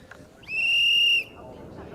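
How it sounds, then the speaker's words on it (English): One loud, shrill marshal's whistle blast at a rally stage, held for under a second, clear and close, over a low murmur of background noise. "I do like the sound of a marshal's whistle"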